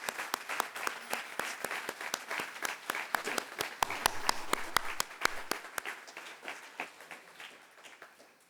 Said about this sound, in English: can I ask everyone to give Mathieu Légère a round of applause, please?